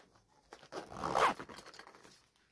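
A single close zipper pulled shut on a pencil case, a quick rising rasp lasting about a second amid faint handling noise.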